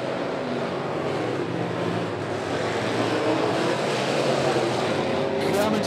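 Sportsman race cars roar continuously down the front stretch of a dirt track on the final lap, a dense engine drone filling the clip, with an announcer talking over it.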